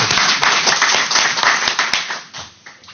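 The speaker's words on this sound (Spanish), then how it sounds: "recibámoslo con un afectuoso aplauso" An audience at a formal conference welcomes a chief police inspector with a short burst of close, sharp hand-clapping that thins out and fades over about three seconds.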